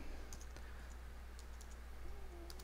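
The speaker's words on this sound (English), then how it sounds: "I type the name of it" Keystrokes on a computer keyboard while working in a terminal, quick soft clicks in short clusters, faint and close, over a low steady hum.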